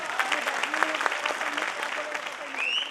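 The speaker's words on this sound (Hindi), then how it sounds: "एक बार जोरदार तालियां सबके लिए हो जाएगा" A crowd at a January 26 celebration event claps together in a sustained burst of applause, with a voice speaking Hindi over it partway through.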